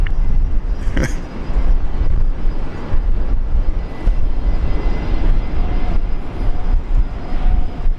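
An aircraft at Brisbane Airport makes a loud, sustained engine roar that fills the whole span, broad and rumbling, with people's voices faintly mixed in beneath it.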